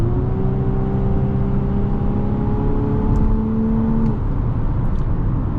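Engine of a 2024 VW Atlas Comfortline SUV in sport mode, a steady droning hum with layered tonal whine that holds level for about four seconds, then eases off under continuous road noise.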